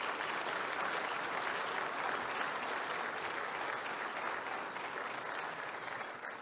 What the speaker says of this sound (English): I hope you will give a round of applause to our councillors at this time